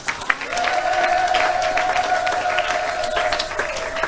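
A church congregation applauds in steady sustained clapping, with a held tone and some crowd noise beneath, fairly loud and close.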